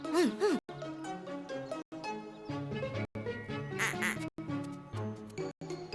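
Repeated duck quacks in quick bursts, loud and close, with short silent gaps between them and a busy backdrop of other sounds.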